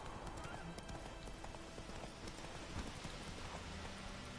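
Roach, a horse in The Witcher 3, gallops with steady clip-clop hoofbeats under a dense layer of rain-like noise, the hooves fairly close and continuous throughout.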